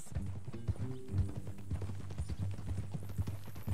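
Horse hooves clip-clop at a steady walking rhythm in Red Dead Redemption 2, close and continuous over a low ambient hum, with no voices.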